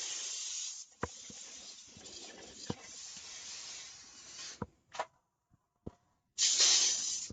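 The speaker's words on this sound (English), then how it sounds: "I'm going to spray and cover the pan" Bursts of cooking spray hiss close up onto a 9 by 13 baking pan, a long spray then short puffs and a final strong blast, with a few light clicks between.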